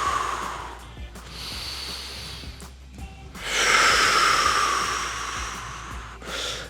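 Slow, deep breaths drawn and released in a quiet room during a stretching routine for anterior pelvic tilt, a long loud exhale near the middle, close to the microphone with no talking.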